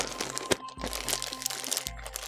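A plastic bag crinkles and crackles continuously as a magnetic iPad case is unpacked from it, with sharp crunchy pops over a steady rustle, close up and with no talking.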